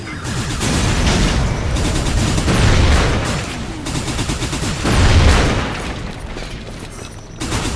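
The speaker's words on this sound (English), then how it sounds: "I just been using the machine gun here." Machine gun fire from the first-person shooter Hard Reset, a dense, loud run of rapid shots with booming impacts, continuous for several seconds with swells in intensity.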